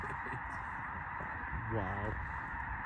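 Spring snow geese call overhead in Nebraska, a steady wash of distant honking from a large flock with a brief nearer honk, while someone speaks a short exclamation.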